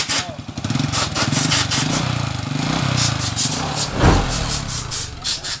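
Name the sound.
chain-type motorcycle engine running smoothly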